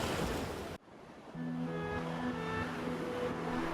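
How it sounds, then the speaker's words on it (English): Ocean surf in Gyeongsangbuk-do Province, South Korea, a broad continuous wash of waves with a brief dip and tonal hum partway through, steady and fairly loud with no talk. "Just listening to the ocean waves heals the mind"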